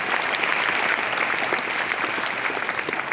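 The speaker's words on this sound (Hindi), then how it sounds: "तहे दिल से सभी एक बार तालियां बजा दें जिन बच्चों ने यहाँ पुरस्कार लिया।" Loud, dense applause from an audience at an award event honouring children, a continuous close clatter of many hands clapping without pause.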